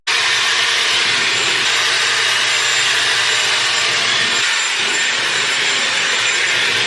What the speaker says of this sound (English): So let's dry my hair.